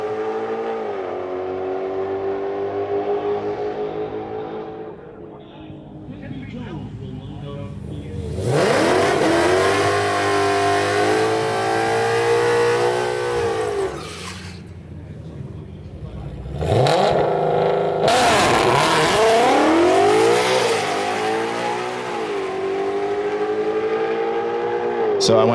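A Shelby GT500 drag car launches at a drag strip and bogs on the hit, its loud engine surging and sagging in pitch through two long revving bursts, with talking over parts of it.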